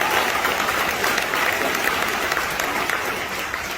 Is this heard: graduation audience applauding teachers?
yes